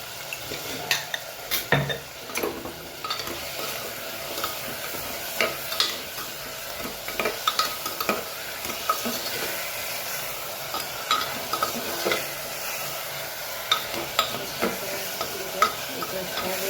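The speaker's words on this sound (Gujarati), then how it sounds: "મેથી નાખીને સરસ મિક્સ કરી લઈએ." Fenugreek leaves are stirred into a sizzling mixture in a pan, a continuous low frying hiss punctuated by frequent irregular scrapes and clinks of a spoon against the pan, close and unspoken over.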